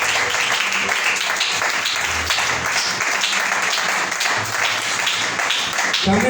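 Sustained, dense clapping from a church congregation, many hands striking together in an even, loud wash that runs without a break, with a faint murmur of voices beneath.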